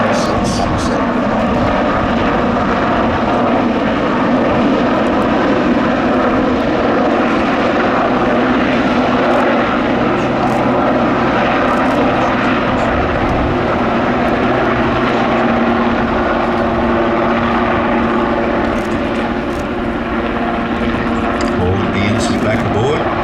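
A Westland Sea King helicopter flying at an air festival, a loud, continuous engine roar with rotor thrum that stays steady and close throughout, with a voice talking over it.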